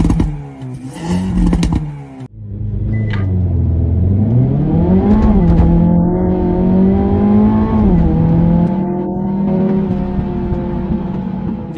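Chinese-market 2024 Hyundai Elantra N during a straight-line acceleration test, engine revving hard and rising through several gear changes with brief dips between shifts, loud and close.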